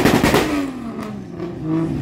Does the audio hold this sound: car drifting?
yes